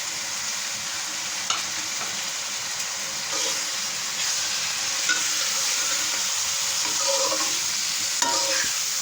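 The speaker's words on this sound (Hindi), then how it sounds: "1 मिनट भूनना है इसको।" Spices and tomato fry and get stirred in a pan for an egg and potato curry, a steady loud sizzle broken by occasional scrapes and clinks of the spoon.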